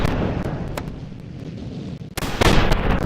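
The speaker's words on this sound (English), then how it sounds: "You can hear that both teams have snipers." Sniper rifle shots from both teams in a video game ring out as a few sharp cracks, spaced apart with rumbling echo, the last blasts louder and closer.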